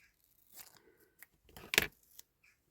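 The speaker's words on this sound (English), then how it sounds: "Cut the end off it." Scissors snip through material during a restoration of a 1965/66 Corgi Major Bedford diecast tanker, a few soft cuts building to one sharp, louder snip near the end, close and quiet with no talk.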